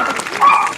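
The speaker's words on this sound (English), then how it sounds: "my dog." A dog gives a single short, loud yip or bark close by, lasting under a second.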